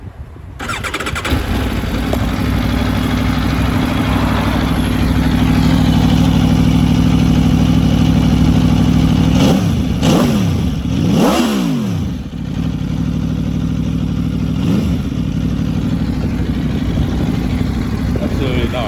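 A 2025 Aprilia Tuono V4 Factory motorcycle idles with a steady rumble, then revs sharply a few times before settling back to idle, close and loud.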